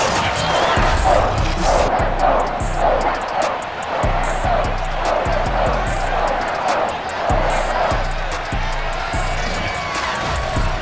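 A sold-out stadium crowd roars in the Madden NFL 22 football game, Patriots versus New York Giants, as a steady loud wash of cheering with rhythmic thumps underneath and a commentator talking over it.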